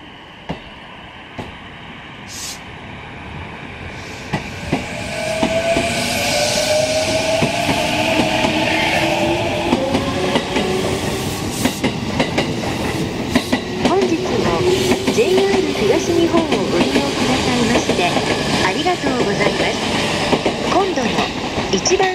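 A 10-car local commuter train on the Ome Line rolls into Nishi-Tachikawa station, rumbling louder with rhythmic clacking wheels and a faint squeal, alongside a platform announcement voice.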